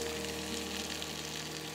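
Mushrooms roasting in a pan give a steady, soft, even sizzle, close and continuous with no talk over it.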